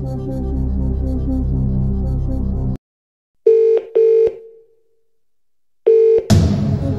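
A telephone rings in the Millionaire quiz video game as the Phone a Friend lifeline connects: steady musical tones give way to silence, then two short loud electronic rings, a pause, and a third ring cut by a sweeping noise.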